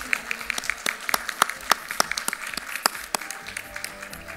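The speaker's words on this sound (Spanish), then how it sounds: "otro gran aplauso para nuestros panelistas, expositores" An audience at an international seminar launching a BIM standard for public projects applauds its panelists, with crisp, irregular claps in a steady patter that fills the room and carries on without a break.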